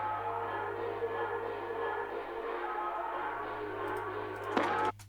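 A dark, gritty chopped sample layer processed with added effects and low-mix reverb sustains as a dense, continuous texture under a steady low hum, with a brief louder burst just before an abrupt cutoff near the end.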